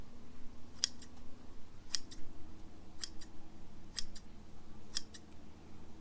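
Corona GS 6750 grass shears snip grass in a steady rhythm, about four crisp cuts each followed by a quick second click, over a low background hum.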